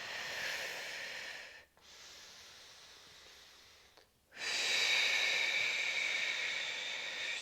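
Close, audible yoga breathing during a pregnancy session: a long airy breath, a quieter drawn-out breath, then a stronger hissing exhale, each separated by short pauses, with no talking.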